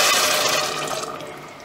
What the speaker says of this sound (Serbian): I odmah ćemo zatim dodati vode.